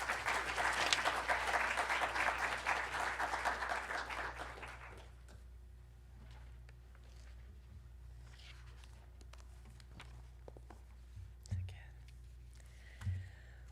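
Audience applause welcoming the author Adriana Lisboa at a talk, a dense wash of clapping for about five seconds that then stops abruptly, leaving quiet room tone with a few faint rustles.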